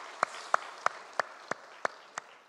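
At a church's 60th-anniversary Sunday service, the congregation claps in unison: seven sharp, evenly spaced claps about a third of a second apart, ringing in a reverberant sanctuary.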